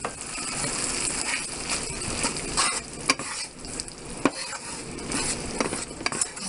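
Chicken broth for a pot pie filling poured into a hot T-Fal pan and stirred, giving a steady close sizzle with scraping spoon strokes and a couple of sharp clicks against the pan.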